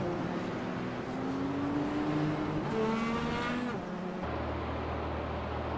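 Race cars in the iRacing sim game's Indy 50 pull out of pit lane, engine tones climbing and overlapping over a steady roar of track noise, with no voices.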